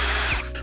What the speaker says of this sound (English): Functions like every other Ryobi drill that is out there. Very smooth with the trigger pull